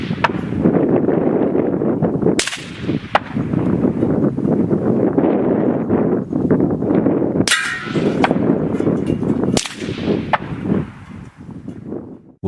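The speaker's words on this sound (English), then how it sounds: "Now we'll hear a bullet hitting snow, then passing by the microphone and landing far away, then hitting a metal target." Rifle bullets strike snow and a metal target outdoors, with a few sharp supersonic cracks cutting through steady, loud wind noise on the microphone.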